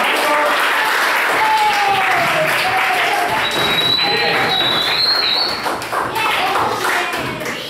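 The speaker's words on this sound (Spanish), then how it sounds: "aplauso para" Group applause in a class or meeting, a steady dense wash of clapping that stays loud throughout with some faint voices mixed in and tapers slightly at the end.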